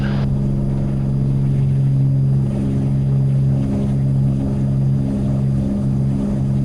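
A Beechcraft Bonanza's piston engine roars through the takeoff roll on runway 14, a loud, steady propeller drone with a constant low hum from start to finish and no speech.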